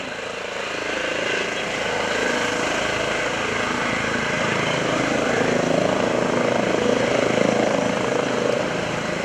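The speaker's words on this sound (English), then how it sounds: "Jonathan Mack continuing to hover sideways with Hackensack UMC's Air Med 1." A Eurocopter EC135 air ambulance helicopter hovers sideways nearby at an airshow, its loud, steady rotor roar and whine holding constant with no voices.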